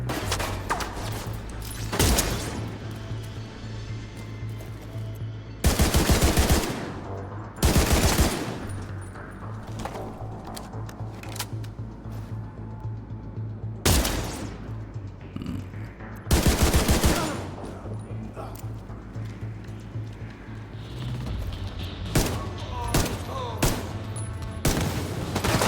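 Pistol gunfire in Tom Clancy's The Division 2: loud bursts of rapid shots at about 2, 6, 8, 14 and 17 seconds, with quieter game ambience and occasional thuds between them.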